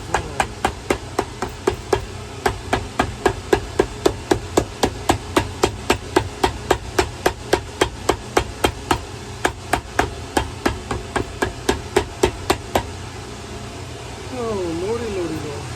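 Hammer striking a Ferragamo boot during shoe repair, a long even series of sharp, close taps at a steady quick rhythm for about thirteen seconds, then stopping as a voice murmurs briefly.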